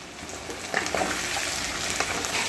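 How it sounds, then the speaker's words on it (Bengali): Potatoes, onion and a bay leaf frying in hot oil in a pan give off a steady, close sizzling hiss that thickens slightly as it goes on. "আলুটা দিয়ে একটু ভাজা ভাজা করে নেবো"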